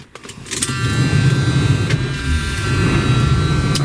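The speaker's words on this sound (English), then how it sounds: "let's fire up that big 460" A 1978 Lincoln Continental Mark V with its big 460 V8 catches after a brief crank, then settles into a loud, steady, deep idle close by, with a faint whine on top.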